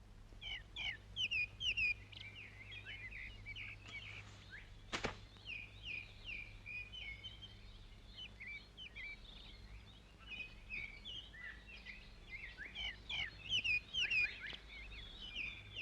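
Several small birds chirp and twitter in quick, high bursts throughout, moderately faint, over a low steady hum, with a single dull thunk near the start.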